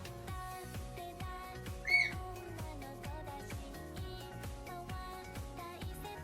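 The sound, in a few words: pet bird squawking loudly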